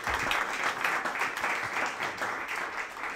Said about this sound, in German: kleiner Applaus für den Paul.